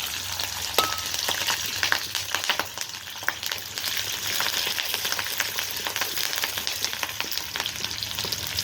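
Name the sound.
chillies and garlic frying in hot oil on a wood stove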